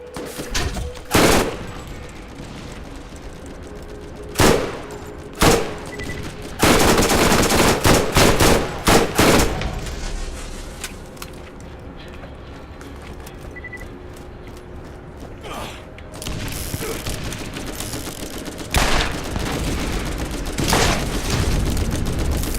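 Machine gun fire in the video game Borderlands comes as loud, sharp bursts of rapid shots, some short and some sustained. Pauses with lower game noise separate the bursts.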